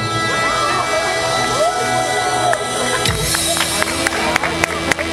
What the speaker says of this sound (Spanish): ¡Fuerte el aplauso! ¡Fuerte, fuerte el aplauso!